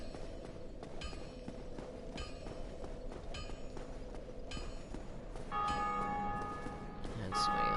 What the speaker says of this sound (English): somebody else ringing the bell